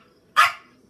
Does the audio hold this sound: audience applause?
no